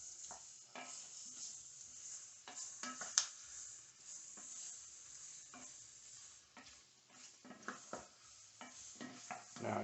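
Smoked sausage being stirred into a chicken and sausage gumbo pot: steady close scraping and shuffling strokes over a soft, continuous sizzle, with occasional sharper clicks of the utensil against the pot.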